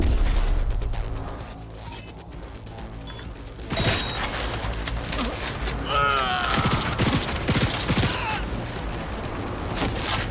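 Gunfire and mechanical weapon clatter in the video game Cyberpunk 2077, with a dense burst of shots and reload-like clicks over a loud, busy mix.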